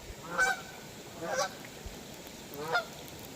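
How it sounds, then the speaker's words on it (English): Three loud goose honks, spaced about a second apart, close by with nothing else sounding, at the water's edge. "Stupid geese. These birds suck."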